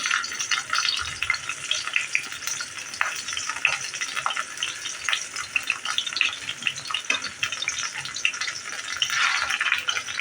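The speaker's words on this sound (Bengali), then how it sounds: "দেখুন এই সয়া চাপগুলো ঠিক এইভাবে আপনাদের ভেজে নিতে হবে, বেশি কড়া করে ভাজবেন না।" Marinated soya chaap pieces frying in a pan over medium heat, a continuous crackling sizzle with bursts of spatter and occasional stirring scrapes, close and steady throughout with no talking.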